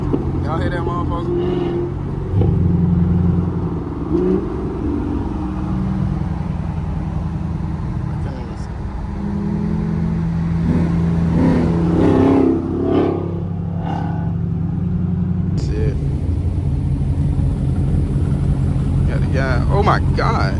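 A V8 muscle car engine revs and roars along a city street in a takeover, loud and sustained with rising and falling engine pitch, while crowd noise and voices run throughout.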